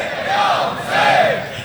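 A large crowd at a religious gathering chants slogans in two loud, rising collective shouts, roaring and echoing as one voice.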